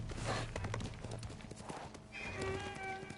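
Horse hooves clip-clopping steadily, with a short whinny, in the Ghost of Tsushima video game. Music and game sounds play underneath throughout.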